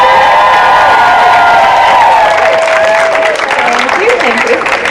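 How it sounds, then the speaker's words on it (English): Outdoor youth climate rally crowd clapping and cheering loudly, with whoops and young voices shouting over continuous applause that holds at full strength throughout. "so can you give her a round of applause?"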